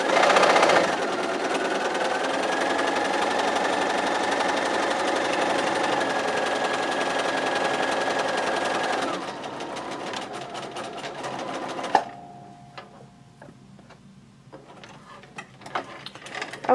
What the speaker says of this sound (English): I'm going to finish sewing row one together